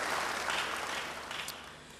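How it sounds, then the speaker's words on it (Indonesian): Applause from a church congregation during a sermon, a steady broadband patter of many hands that holds fairly even and tapers slightly toward the end, with no voices over it. "Beri tepuk tangan yang baik bagi dia."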